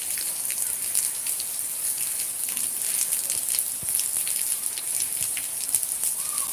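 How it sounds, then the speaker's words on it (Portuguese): Rain pours in Cabo Verde, a steady, even hiss of countless drops striking the ground, constant and fairly loud with no voices over it. "nos partilha a chuva na Cabo Verde"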